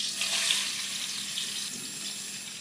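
Shallots frying in butter with a little vegetable oil in a pan, a steady close sizzle and crackle with a brief louder burst early on, no talk.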